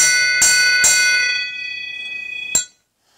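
A freshly cast bronze bell is struck three times, twice in quick succession and once more after a pause. Each strike rings loudly with bright, sustained overtones that fade before the last hit is cut short.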